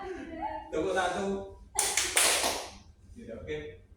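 A fourth-grade elementary classroom claps a short rhythmic pattern: a dense burst of many hands near the middle, between stretches of a teacher speaking and counting it off.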